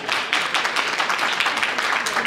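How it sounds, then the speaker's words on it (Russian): An audience at a live stage performance gives a dense, even round of applause, a steady rush of many hands clapping together with no voices on top. "Аплодисменты вам."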